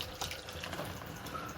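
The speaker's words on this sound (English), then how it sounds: "I know y'all hear that drip. Don't be afraid of the drip." Water trickles from a bathroom tap during a morning face wash, a faint, steady splashing with a few small drips, quiet and close.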